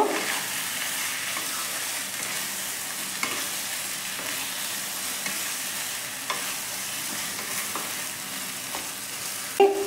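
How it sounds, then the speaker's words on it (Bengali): Chicken masala with sugar and onion paste frying in a pan, a soft continuous sizzle broken by scraping stirs and occasional clacks of the spoon against the pan, near and moderately quiet, with no speech. "চিনিটাও মাংসের সাথে মিশিয়ে নেব।"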